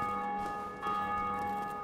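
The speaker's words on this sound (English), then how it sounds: "that bell ringing means there is another player has just rung one of the bells nearby" Church-like bell tolling in Dark Souls, a sustained ringing tone with long resonant overtones, steady and moderately loud throughout, with no voices.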